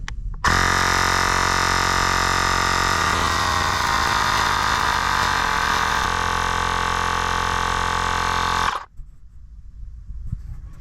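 A Xiaomi 2 portable tire inflator, set to 2.9, pumps up a Tesla tire with a loud, steady electric buzzing drone that holds for about eight seconds and then cuts off abruptly on its own.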